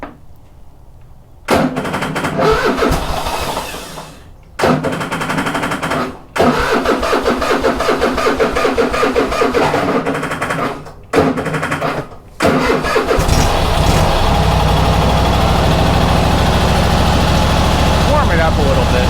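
A Toro Timecutter riding mower engine cranks in several short bursts separated by pauses, then catches and settles into a steady, loud running drone for the final stretch, with a person talking at points.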